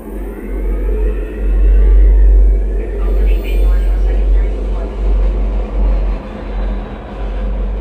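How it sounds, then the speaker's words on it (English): A loud, deep engine roar rumbles steadily, swelling and easing slightly over several seconds with a heavy low-end drone. "Engines are up and burning."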